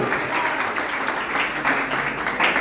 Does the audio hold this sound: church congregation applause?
yes